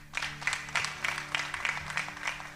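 Church congregation clapping together in rhythmic bursts at a PEFA church service, a steady, fairly loud run of applause with no talking over it.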